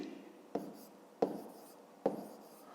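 A pen or pencil writes numbers for a fifth-grade math exercise on paper, three sharp taps and short strokes spaced evenly apart, close and fairly soft against a low steady hiss.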